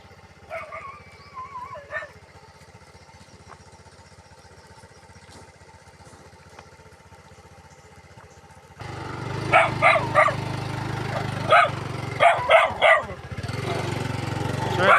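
A village dog barks in a few sharp bursts in the second half, fairly close, over a steady rumbling background; quieter sounds precede it.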